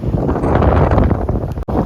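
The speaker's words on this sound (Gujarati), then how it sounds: "સામે પવન ગાજતો છે તો તમને કઈ સંભળાતું" Strong wind roars and buffets the microphone in a steady, loud rush by a stormy sea, with a brief dip near the end.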